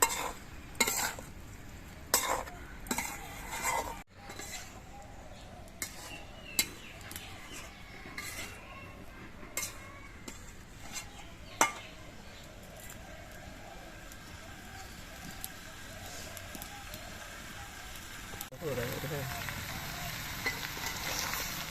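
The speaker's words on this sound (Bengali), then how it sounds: "এবার সব কিছু দিয়ে সবজিগুলোকে কিছুক্ষণ কষিয়ে নিতে হবে" Vegetables sauté in a pan with coriander and cumin powder, giving a steady soft sizzle under repeated scraping and stirring clinks of a spoon against the pan, with no talking.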